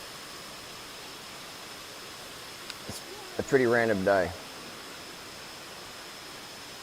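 A waterfall gives a steady, even rush of water throughout, with a person talking briefly over it midway.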